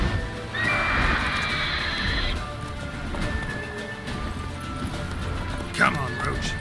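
Roach the horse in the video game Witcher 3 gives a loud, drawn-out whinny, then gallops on with steady hoofbeats under the game's background noise, with a sharp thud near the end.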